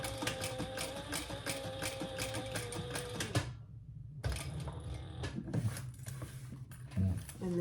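A sewing machine runs a few backstitches on a small fabric wallet, a close, dense mechanical whir that stops briefly midway and then resumes, with faint knocks at the end.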